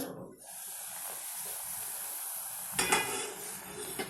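Plantain pieces simmer in a covered pot with turmeric and salt, a steady low bubbling hiss running throughout, then a brief louder clatter and burst of bubbling near the end.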